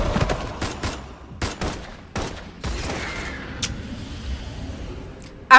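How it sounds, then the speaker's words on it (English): Several loud bursts of video game gunfire in Love and Deepspace crack out in a quick cluster early on, then give way to a sustained rumbling wash with a sharp hit near the end. "After the loud gunfire ends"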